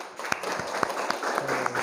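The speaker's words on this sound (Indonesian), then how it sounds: "tepuk tangan untuk Lola" A classroom of students applauding a classmate, brief and fairly light clapping with a few sharper individual claps standing out in a modest room.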